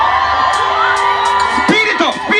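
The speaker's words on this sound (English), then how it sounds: "All of them look out there, can you scream?" Dense crowd at the Brixton Splash street festival screaming, whooping and cheering loudly and continuously, with shouts and voices rising over a steady wall of noise close by.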